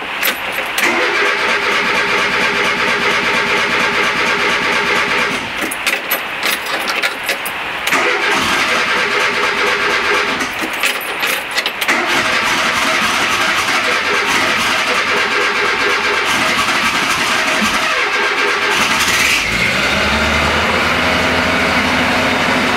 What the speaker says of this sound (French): Comme tu l'entends, il tourne beaucoup mieux depuis que j'ai changé le démarreur.